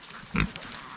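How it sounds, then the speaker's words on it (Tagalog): A farm pig lets out one short, close grunt in the middle of a brief moment, with faint outdoor background before and after. "Yung baboy natin ito oh."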